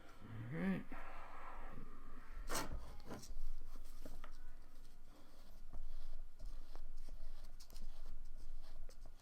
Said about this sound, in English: Rib is great for smoothing and shaping.